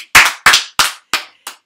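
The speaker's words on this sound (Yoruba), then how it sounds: "Ẹ pàtẹ́wọ́ fúnra yín." Five sharp bursts of hand clapping at a live Yoruba stage show, each loud and evenly spaced about a third of a second apart, fading slightly toward the end, with no voices over them.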